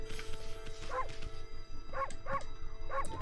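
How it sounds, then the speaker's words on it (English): A cartoon dog from Okami HD barks in short yips, four quick bright barks over steady game music, the last three evenly spaced. "I accidentally pressed the bark button"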